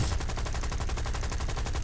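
Machine gun rounds striking a Spitfire Mk.Vb in War Thunder, a rapid, even string of loud sharp bursts over a heavy low engine drone, close and continuous.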